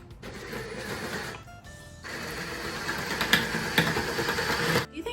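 A power drill with a bigger bit boring half-inch mounting holes during an Airaid snorkel install, whirring steadily for several seconds with a brief pause and the grind of the bit biting in.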